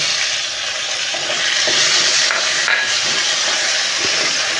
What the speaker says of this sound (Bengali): এবার আমি টমেটো কুচিটা দিয়ে দেবো